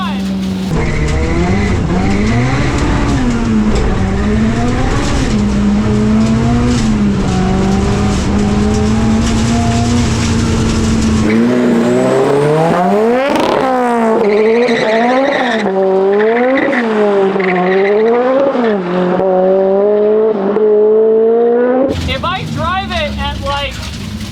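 A 515 hp rear-wheel-drive Honda Civic accelerating hard, its loud engine rising and falling in pitch through repeated revs, with tire squeal and wheelspin close by throughout.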